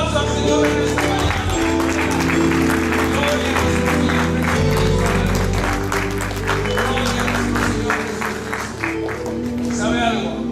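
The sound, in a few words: congregation applauding in church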